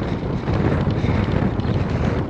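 Steady, fairly loud wind blows against the microphone outdoors for the whole stretch, a dense low rumble with gusty buffeting and no talk.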